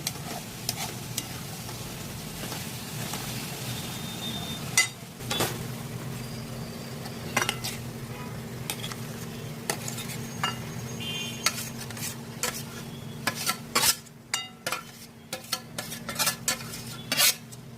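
A spoon stirs Khandeshi-style eggplant bharit with chopped spring onion in a pan: a soft steady sizzle runs under repeated sharp scrapes and clinks of metal against the pan, and the clinks grow busier toward the end.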